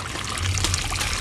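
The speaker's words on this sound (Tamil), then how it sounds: "தண்ணி ஊத்துங்க." Water pours from a clay pot in a loud, continuous splashing trickle lasting about a second, with no voices over it.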